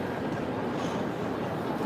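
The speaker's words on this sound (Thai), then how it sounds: "นี่ก็คือสถานีรถไฟที่มิลาน" Inside a railway station in Milan, trains give off a steady low rumble with faint rolling clatter, close and continuous, with no talk.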